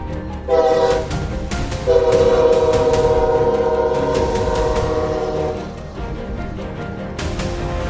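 A train rumbles past nearby with a long, loud horn blast sounding over the rolling noise, then the roar fades slightly.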